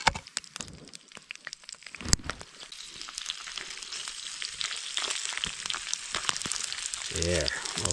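Small cubes of food frying in hot oil, a close crackling sizzle that builds and stays steady, with a few clanks of utensils and a brief voice near the end.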